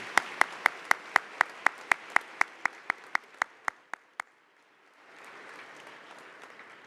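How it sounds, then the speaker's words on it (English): At a Westminster Upper School Honors Day ceremony, a close, single set of hand claps strikes about sixteen times in a slowing rhythm, then falls silent before a softer, distant wash of audience applause rises. "I'd like to offer you all a round of applause for being here"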